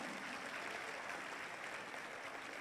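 A school annual day audience claps for gold medal winners, a dense, uniform patter of many hands sustained at a moderate, somewhat distant level with no voices over it.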